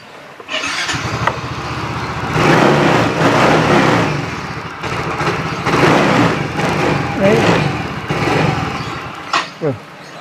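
A Yamaha Soul GT 125 scooter that lacks power and tends to stall has its engine start and rev in uneven surges, loud and close, with the revs rising and falling, then settling into a short idle.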